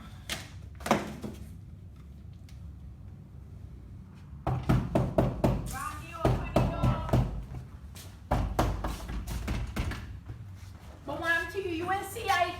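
Repeated knocking on the door of a family home comes in a few clustered bursts of sharp raps, with people talking around them.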